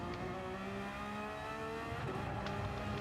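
In Gran Turismo 7, a car accelerates on throttle with a continuous, close, loud engine tone that climbs steadily, joined by faint tire noise near the end.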